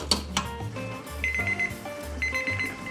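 A kitchen timer rings twice in a short repeated electronic trill, heard over the low hum of a stand mixer beating cookie dough on low speed, close and fairly loud.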